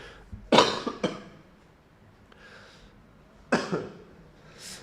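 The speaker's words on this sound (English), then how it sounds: "I have to cough" Two bursts of coughing from a person close to the microphone, each a sharp cluster of rough hacks, separated by a quieter gap with faint breathy throat sounds, in an otherwise quiet room.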